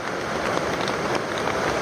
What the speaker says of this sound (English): it started raining last night